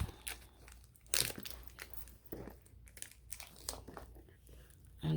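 Cardboard and plastic packaging of a Samsung Galaxy Z Fold 3 box being opened, with close crinkling, tearing and rustling in irregular bursts and a few sharper handling clicks, no voice over it.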